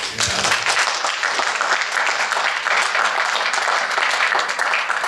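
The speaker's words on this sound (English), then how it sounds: "give him a round of applause" A crowd applauds steadily, dense clapping that holds at an even loudness throughout, with a few voices faintly mixed in.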